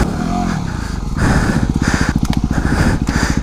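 A dual sport motorcycle stuck in mud, its engine chugging at idle and then revving hard in a rapid, pulsing rhythm, loud and close.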